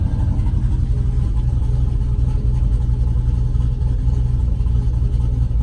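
A 2005 GMC Sierra pickup with a 4.8 V8 idles shortly after a somewhat cold start, giving a steady, close, low engine rumble that stays even and unbroken, with no talking.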